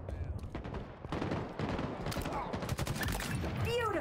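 Rapid bursts of gunfire from the video game Halo Infinite crack out in dense, repeated volleys across the whole stretch, loud and close, with overlapping shots and faint chatter mixed in beneath.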